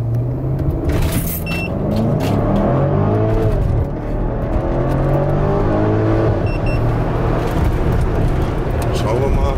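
Hamann-tuned BMW X6 M accelerating from 0 to 100 km/h with two people aboard, a loud, sustained engine roar rising steadily through several gears from inside the cabin.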